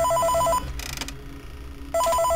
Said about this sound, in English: We got a phone call.